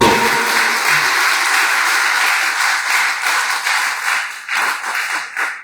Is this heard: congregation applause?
yes